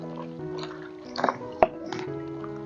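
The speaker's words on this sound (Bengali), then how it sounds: "এখন বরবটিগুলোকে ভালো করে ধুয়ে নিচ্ছি।" Cut yard-long beans being washed in water, with soft splashes, drips and a couple of sharper wet knocks close by over a quiet background.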